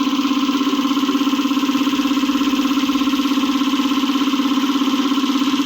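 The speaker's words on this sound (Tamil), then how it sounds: "பின்னாடி மோட்ரு ஓடுற சவுண்டு கொஞ்சம் டிஸ்டர்பன்ஸாக இருக்கலாம்" A motor hums steadily in the background, constant and even throughout, with no talk over it, while fish are being cleaned nearby.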